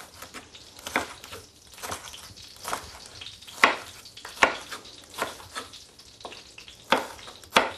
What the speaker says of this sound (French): On remet donc notre poêle et on va pouvoir réaliser la pré-cuisson de nos poivrons